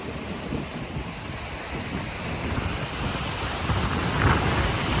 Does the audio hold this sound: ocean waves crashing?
yes